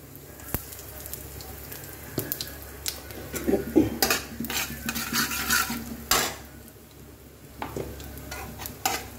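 Cumin, mustard seeds, urad dal and asafoetida sizzling in about four tablespoons of hot oil, with crackling bursts, a few clinks of a spoon against the pan and stirring over a steady low hiss.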